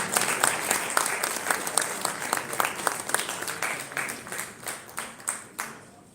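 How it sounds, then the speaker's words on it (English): An audience at a business dinner applauds steadily, a dense wash of many hands clapping that holds for several seconds, then thins into scattered, fading claps. "Please give him a round of applause."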